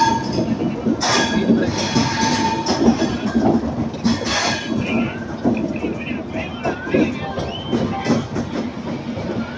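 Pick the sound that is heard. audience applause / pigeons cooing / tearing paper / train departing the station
train departing the station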